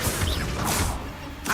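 A Confringo spell is cast in Hogwarts Legacy, heard as swishing whooshes and sharp impact cracks in quick succession, close and fairly loud, with no speech.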